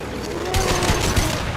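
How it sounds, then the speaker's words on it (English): Shotgun blasts ring out in Mass Effect 2, a few moderately loud, spaced booms over a busy game background with a faint voice beneath. "Guys, you have shotguns!"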